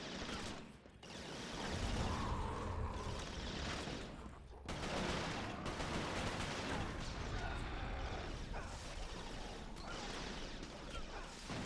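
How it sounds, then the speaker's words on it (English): Explosions and bursts of gunfire fill a battle in the video game Resistance: Fall of Man, a dense continuous roar of blasts and shots with heavy low rumble throughout. "I'm throwing grenades all over the place."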